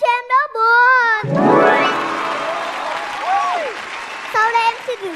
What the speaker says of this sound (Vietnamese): Xin các bác vỗ tay cho em đỡ buồn.